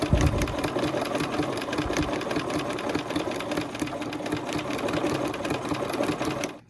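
Sewing machine stitching around a holly leaf on a fabric Christmas garland, a steady loud mechanical whir with rapid needle chatter running continuously, close up, stopping abruptly at the end.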